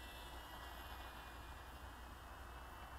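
A Parkzone Micro P-51D Mustang RC plane flies indoors at about one-third throttle, giving a faint, steady high-pitched whine from its small electric motor and propeller throughout, with no talking.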